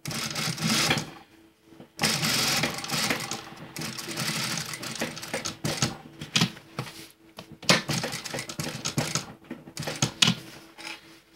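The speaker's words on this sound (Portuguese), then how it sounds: "Agora a gente vai pespontar ele. Com ele bem na beiradinha." A sewing machine topstitches a built-in invisible pocket right along the fabric edge, running in loud bursts of rapid stitching separated by brief pauses, with no talk over it.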